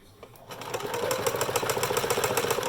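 Sewing machine back-stitching a homemade fabric mask, starting after a brief pause and settling into a fast, even mechanical whir with rapid regular needle clatter, close by and steady.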